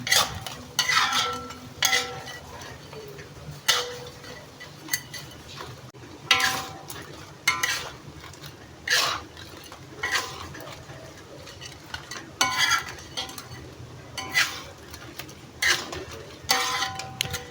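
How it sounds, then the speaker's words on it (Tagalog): Garlic butter shrimp with oyster sauce stirred in a pan: repeated clinks and scrapes of a utensil against metal come in irregular bursts over a soft background sizzle. "Ayan, halo-haloin uli natin hanggang maluto."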